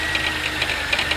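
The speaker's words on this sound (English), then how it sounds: "As you can hear, there's that knocking or that clunking noise." A GM engine idling with a fault: a steady idle hum carries a repeating knocking or clunking tap a few times per second, close up, with no talk.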